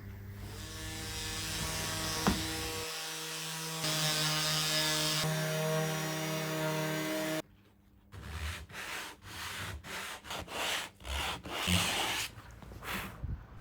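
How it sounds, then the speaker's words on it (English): Wooden desks are sanded during a camper van conversion of an Iveco Daily, first a continuous power-sander drone, then short rasping strokes starting and stopping in an irregular rhythm, close up and without speech. "So it's time to sand it all and start painting."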